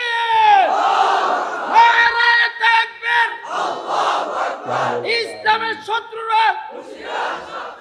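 A large crowd chants slogans in loud, rhythmic bursts, with massed voices rising and falling in repeated calls at a religious gathering.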